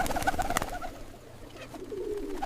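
Pigeons coo softly inside a pigeon coop, several low throaty calls close by at first, then fainter cooing under a quiet, steady background.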